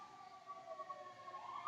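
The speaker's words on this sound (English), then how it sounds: "I apologize for the siren if you heard that." A distant siren wails steadily in the background, its tone wavering slightly and rising near the end, fairly faint with no other sounds.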